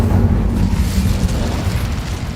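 The Incendio fire spell in Hogwarts Legacy gives a loud, sustained roaring whoosh of flame, dense and low-heavy, with no talk.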